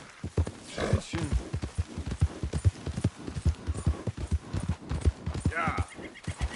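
A horse in Red Dead Redemption 2 clops along in a quick, uneven run of hoofbeats and gives a whinny, with a voice talking over the hooves.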